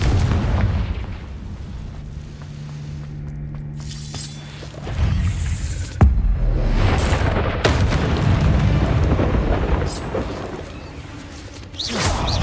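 Confringo fire spells burst repeatedly in Hogwarts Legacy combat, loud booming explosions with sharp cracks and rumbling aftershocks layered over constant battle noise and game music.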